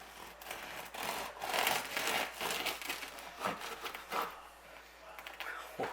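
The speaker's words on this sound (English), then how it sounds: "let's cut this bad boy open." A knife saws through a loaf of high top bread from a bread maker, giving close, uneven rasping and crinkling strokes of the crust that rise and fall over about six seconds.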